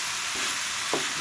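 Winter vegetables with mung dal sizzle steadily in a pan, a continuous bright frying hiss with a brief scrape of stirring near the end, close and without talk.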